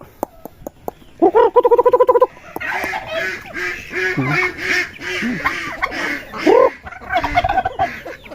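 Turkeys being fed rice give a loud, close run of rapid gobbling and honking calls, with repeated bursts and warbling cries tumbling over one another.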